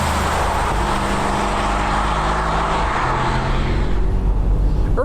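A Mercedes-AMG SL 63 4MATIC+ roadster's V8 engine rumbling on a road in early January in Poland, a loud continuous low drone with broadband road noise and no talking.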